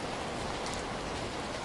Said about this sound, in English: The rain slowly softens.